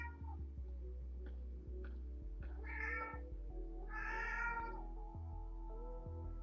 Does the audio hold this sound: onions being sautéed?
no